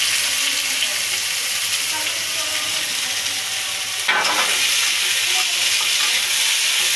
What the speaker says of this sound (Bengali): পেঁয়াজ কুচিটা তেলে দিলাম